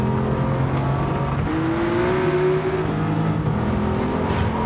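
A race car on slick tyres roars close by in a racing game, its engine pitch climbing and sweeping past over a constant loud motor drone.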